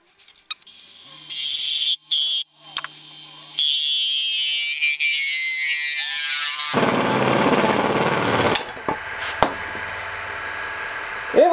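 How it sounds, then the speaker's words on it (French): A wood lathe spins a file handle as a spear-point tool parts it off, giving a thin scraping whine with knocks and taps, then a louder, broader rushing grind as the cut deepens before the piece drops free. "Je vais la détacher au grain d'orge."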